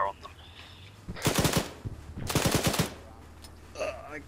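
Gunfire in a military video game set in Virolahti, Finland: two rapid automatic bursts of sharp close shots, each about half a second long, with quieter ambient sounds between.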